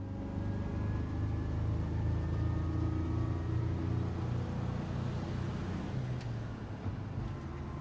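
A 1951 VW Samba bus with a 24 hp engine driving on the road, a low steady engine rumble and road noise heard from inside, with a slight drop in pitch near the end.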